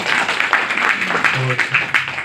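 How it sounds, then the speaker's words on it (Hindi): An audience claps to welcome a journalists' union state president at a state-level event of the Haryana Union of Working Journalists in Bhiwani. A broad, steady wash of applause runs throughout, loud and close, with a voice briefly heard within it. "मैं साथियों से अनुरोध करूँगा तालियों से उनका स्वागत करें"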